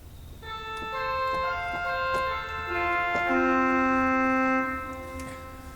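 A pipe organ's trumpet en chamade stop plays a brief phrase of sustained, brassy chords, with notes shifting under a held top line, resonant and steady in a large room.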